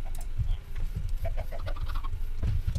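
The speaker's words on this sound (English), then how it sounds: "See, there's the chickens." Chickens in the Minecraft video game cluck in a steady run of short calls throughout, with a low rumble underneath and no talking.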